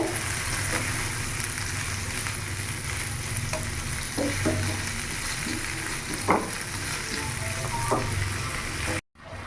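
Spice masala frying and being stirred in a kadai for restaurant-style kadai paneer, a steady loud sizzle with scraping stirs and occasional spoon knocks throughout, no voices.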